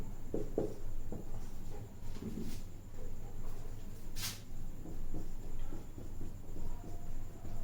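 Pen or pencil scratching across paper at close range, a steady scribbling texture with a brief sharper stroke midway, over a low room hum with no talk.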